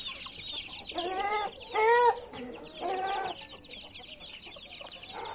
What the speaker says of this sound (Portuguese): Soltei os pintinhos pequenos, galera. Primeira vez que eles têm contato com a terra aí.